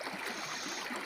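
River water flowing steadily, a continuous broadband wash with faint gurgles, quiet and unbroken throughout, with no voices.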